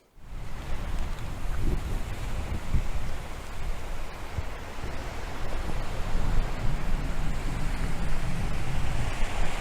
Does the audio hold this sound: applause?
no